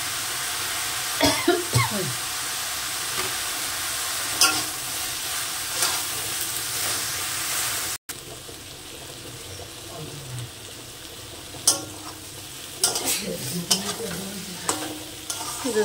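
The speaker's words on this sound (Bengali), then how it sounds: "আমি এবার শাপলাটাকে নেড়ে চেড়ে নিই" Water lily stems coated in turmeric sizzle in a frying pan as they are stirred, with scraping strokes and faint intermittent sizzling throughout, a brief break partway through, and occasional soft knocks.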